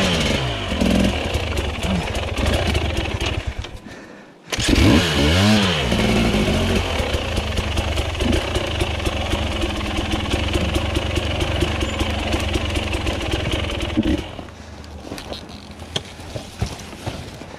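A two-stroke 300 enduro dirt bike, a TE300i, runs steadily on a hard enduro trail, its engine buzzing continuously with a brief cut and restart, then a slightly quieter idle toward the end, with no talk over it.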